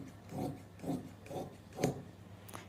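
Scissors cut through salwar suit fabric in four slow, regular rasping strokes, close and fairly quiet, with a brief higher snip at the end and no talking.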